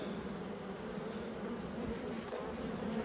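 Honey bees in a hive being built up for winter, where a marked, mated queen has been introduced, give off a steady, dense buzz. The hum is close and fairly quiet, with no voices over it.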